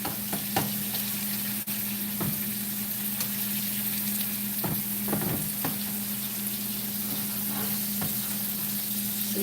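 Chuck eye steaks fry hard in a pan over high heat, giving a steady, close sizzle with scattered pops and crackles and the occasional faint scrape, with no talking throughout.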